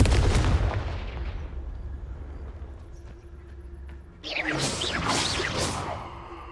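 A Confringo fire spell cast in Hogwarts Legacy gameplay, a loud fiery blast that decays into a low rumble, followed by a second burst of whooshing, crackling energy.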